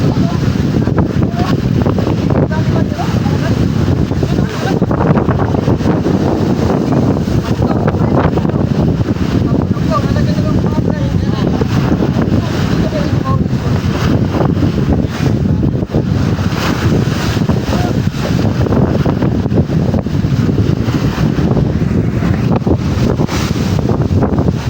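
Strong northeast monsoon wind sweeps a coastline, roaring steadily and buffeting the microphone throughout, with a dense, unbroken rush that may carry surf underneath.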